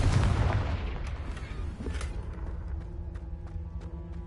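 Confringo fire spell exploding in the video game Hogwarts Legacy: a loud, deep blast with a rumbling boom that slowly decays into crackling debris and lingering low roar, with no talking.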